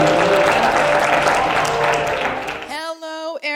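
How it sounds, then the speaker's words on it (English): An audience at a realtor business development event applauds for a speaker, a dense burst of clapping that fades after a few seconds into a short tonal voice. "Let's give her a big round of applause."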